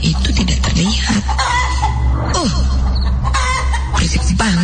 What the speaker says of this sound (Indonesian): Berisik banget nih ayam.